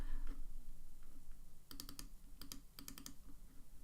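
Typing on a computer keyboard: two bursts of rapid, close key clicks separated by a short pause, over a low steady room hum with no talking.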